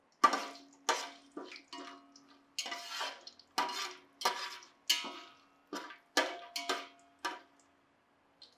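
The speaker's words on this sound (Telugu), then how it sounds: "సో ఇప్పుడు మిర్చి వేసేస్తున్నా." Green chillies tossed into a cooking pot in a home kitchen: a series of about a dozen short clattering knocks and scrapes of metal utensil against the pot, spaced irregularly, close and fairly quiet, with no talking.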